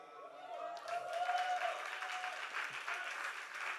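A crowd at a live awards show applauds a singer, steady distant clapping heard quietly behind a faint voice and a thin sustained tone.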